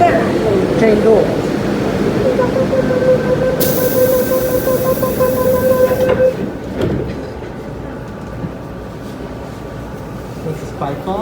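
An MTR M-Train on the Tsuen Wan line at Lai King station, with a loud rumble of train noise and a steady tone, then a bright hiss as the doors close, before the sound settles to a quieter hum with talk nearby.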